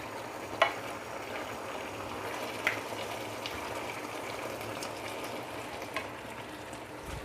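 Pork belly stir-fried with eggplant, okra and bitter gourd gives a low, steady sizzle with occasional soft clicks of stirring, quiet and without any voices.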